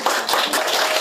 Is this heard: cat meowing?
no